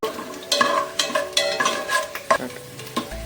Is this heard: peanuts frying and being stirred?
yes